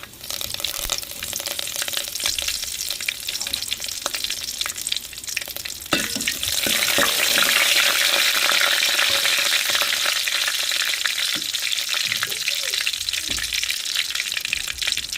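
Curry leaves dropped into hot oil for a breakfast dish, giving a steady close sizzle that swells louder partway through and keeps crackling to the end, with no talking.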